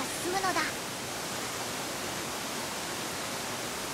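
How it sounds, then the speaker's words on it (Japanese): A steady, broad rush of a nature waterfall fills the scene at an even level throughout, with a brief voice near the start. "ある滝の手前に到着なのだ"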